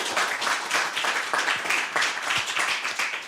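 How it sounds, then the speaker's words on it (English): Audience at a climate-tech panel event claps for the panel guests, a smaller group whose individual claps come through as rapid, uneven bursts over a short stretch. "Perhaps an applause for them."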